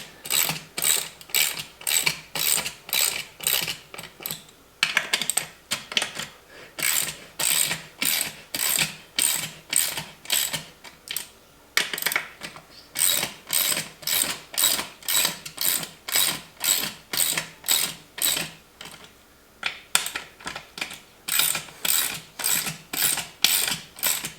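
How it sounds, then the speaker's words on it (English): A ratchet wrench tightens beadlock bolts on a tire. It makes steady, rapid clicking in repeated bursts, each followed by a brief pause, close and clear, with no voices. "When I start out with this, I just use a regular wrench."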